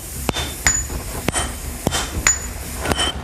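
Large hammers swung by students strike red-hot iron at a forge, ringing out as sharp metallic clangs at irregular intervals of roughly half a second to a second, about six blows, close and loud.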